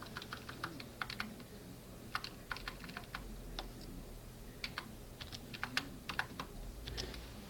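Quiet, steady typing on a computer keyboard, with irregular bursts of key clicks over a faint background hum.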